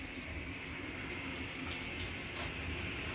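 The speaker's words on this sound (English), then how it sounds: "So I got water go in, and then they go out hot water right here." Hot water runs from the tap of a small 110-volt electric water heater, a steady, even hiss of flowing water lasting about three seconds without a break.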